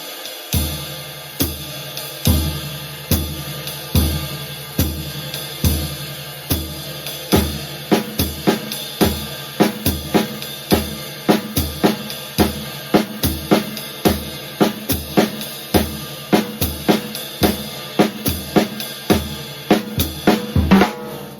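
Drum kit swinging steadily, the bass drum thumping on every beat beneath a triplet-feel ride cymbal and hi-hats on two and four, played close and without talk for about twenty seconds.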